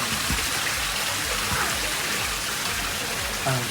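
Steady rain hisses and patters continuously onto a backyard garden waterfall, with water splashing and trickling throughout.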